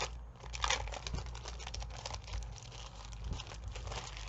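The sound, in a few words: paper being handled and crinkled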